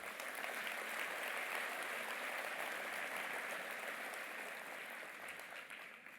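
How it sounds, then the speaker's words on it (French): Applause from the audience at a French town's New Year greetings ceremony in Herblay, steady clapping from a large room that swells briefly then slowly fades over about six seconds. "On peut les applaudir aussi."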